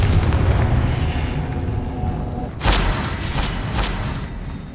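Confringo fire spell from Hogwarts Legacy erupting as a loud, sharp blast over a dense, rumbling game soundscape, followed by a couple of fainter booming bursts.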